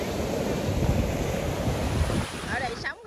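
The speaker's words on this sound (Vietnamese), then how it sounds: "Ở đây sóng rất là to cả nhà." Big sea waves crash at Hồ Cốc beach, a loud, continuous surf roar with heavy wind buffeting the microphone, then a brief voice just before the sound cuts off.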